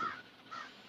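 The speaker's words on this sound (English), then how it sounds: "I heard the crows go, honk, honk" Two crow caws, one at the start and another halfway through, distant and fairly faint against quiet background noise.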